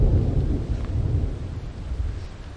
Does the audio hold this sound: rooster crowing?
no